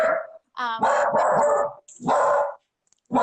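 A pet dog barks loudly and repeatedly close by, a run of sharp barks with a growly edge, breaking in around and over people talking in a home setting.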